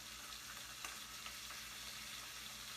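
Bacon sizzles steadily in a pan, a constant crackling hiss with occasional small pops, faint and close, with no voices.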